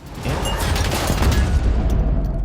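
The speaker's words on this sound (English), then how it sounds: "In the chaos, a car explosion knocks him down." A car explodes in an action film scene amid chaos and gunfire, a loud, dense booming blast with rumbling debris that fills the scene and then tapers off.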